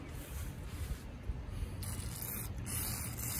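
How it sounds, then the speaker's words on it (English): Contact cleaner hissing from an aerosol can onto Commodore Amiga 500 computer parts, a steady close spray lasting the whole few seconds, with the hiss brightening and pulsing slightly partway through. "This is contact cleaner."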